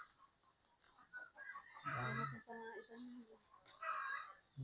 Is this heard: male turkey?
yes